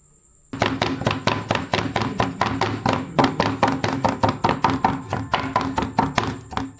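A knife chopping chili and garlic on a board for Vietnamese cooking: a fast, steady run of sharp, close taps and thunks that keeps going for several seconds, with no talk over it.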